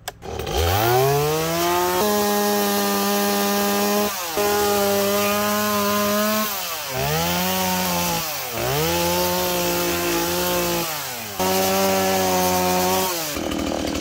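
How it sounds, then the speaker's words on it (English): A chainsaw revs and bites through wood cutting down a tree, its engine pitch rising and dropping in long strained bursts, loud and close. "let's go ahead and cut this tree down"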